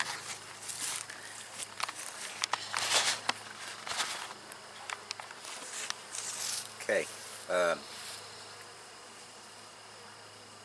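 Steady buzzing of many bees around a hive, with occasional nearby knocks and a person speaking briefly.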